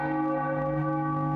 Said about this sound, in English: That bell sound?